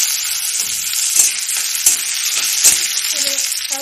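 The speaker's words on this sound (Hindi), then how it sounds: "प्याज थोड़ा हो गई, इसमें मैं टमाटर डालती हूँ।" Tomatoes added to frying onions in a pan hiss and sizzle loudly and continuously, with a few soft stirring scrapes and no talking.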